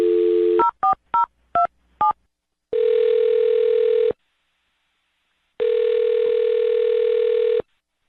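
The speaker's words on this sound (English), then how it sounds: "I'm going to dial her phone number right now and see if we can get her on the phone." A telephone dials a number with five quick touch-tone beeps, then gives two long, steady ringback tones separated by silence, all clear and alone.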